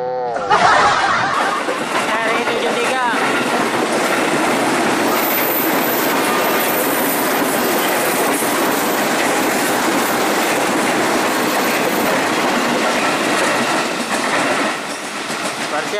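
Commuter train running on rails between Rawa Buntu and Serpong stations, a loud, steady roar of wheels and car rumble with rhythmic clickety-clack and some squeal, heard from aboard and continuous throughout.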